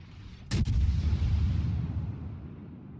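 A Zao cruiser fires a single booming naval gun salvo in World of Warships. It hits with a sharp, loud crack, followed by a deep rolling rumble that fades over a couple of seconds.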